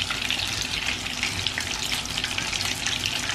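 Eggplant slices fry in oil in a pan, a steady, close, hissing sizzle with no talk.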